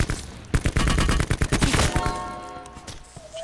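Rapid burst of shotgun blasts in Call of Duty Black Ops Blackout, several loud close shots in quick succession trailing into a ringing decay, with no talk over it.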